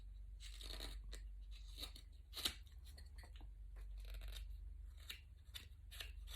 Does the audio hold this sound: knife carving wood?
yes